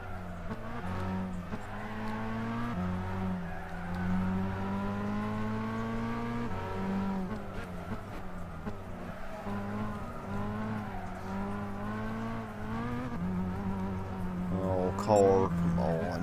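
Race cars in Gran Turismo 6, including a GTO and an Audi R8, drone with layered engines shifting up through gears, and a brief tire squeal near the end, with someone talking now and then.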